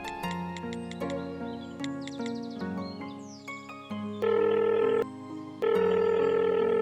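A telephone call is placed: a sequence of short keypad dialing tones followed by two long, loud buzzing ring tones separated by a pause, clear and close with no talk.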